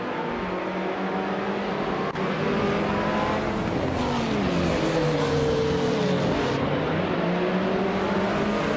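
A 2016 Subaru Impreza WRX STI race car launches off the line, its engine revving hard with rising and falling pitch sweeps, loud and continuous, accompanied by other racing engines.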